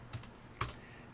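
Two soft keystrokes on a computer keyboard, faint and close, with a quiet room tone behind them.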